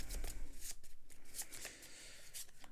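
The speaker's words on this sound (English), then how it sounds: "we will shuffle these up and draw 3 more" Playing cards shuffled by hand during a solo tabletop game session, a few soft riffling bursts with brief pauses between them, close and fairly quiet with no talking.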